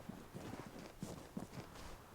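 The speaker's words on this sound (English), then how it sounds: "why would there be footsteps right there in front of me?" Two people's footsteps in the video game Vigor, a few soft, uneven thuds spread across a couple of seconds, faint and somewhat muffled as if nearby on the same level.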